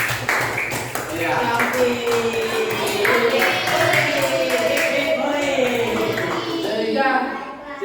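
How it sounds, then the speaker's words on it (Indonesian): Students in a classroom lesson clap for classmates, a dense patter of many hands running steadily throughout while voices chatter over it, fading near the end. "Tepuk tangan"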